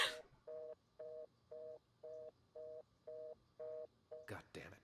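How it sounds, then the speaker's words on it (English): Phone ringing tone in the video game Unheard: Voice of Crime, eight evenly spaced beeps in a steady rhythm, followed by a brief burst of noise, with someone talking faintly underneath. "Answer the fucking phone."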